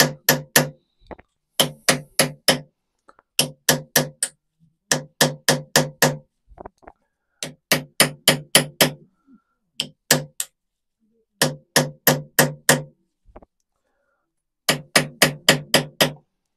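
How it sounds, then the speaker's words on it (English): A hammer taps gently on a part of a 1921 Lister TM stationary engine in quick clusters of four or five crisp, close knocks, each cluster separated by a brief pause. "See that one's now loose. That one's now loose. Gently tappy tap."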